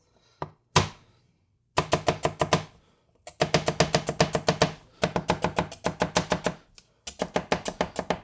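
Bursts of rapid chopping with a Kyoku kitchen knife on a cutting board, close and loud, in steady rhythmic runs of quick knocks separated by short pauses, with no talking.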